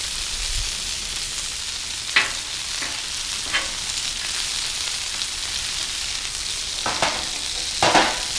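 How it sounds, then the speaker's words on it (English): Chicken wings frying in oil on a Blackstone griddle give a steady, close, bright sizzle, broken now and then by brief louder crackles and spatters, with no talking. "let's make sure they get oil on them and it's dry burning on the griddle"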